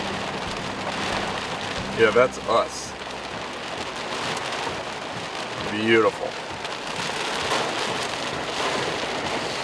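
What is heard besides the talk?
heavy monsoon rain falling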